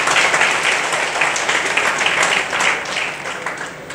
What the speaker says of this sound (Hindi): तालियां बजाने के लिए कहना नहीं पड़ा।